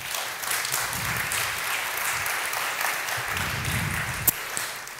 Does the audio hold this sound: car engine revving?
no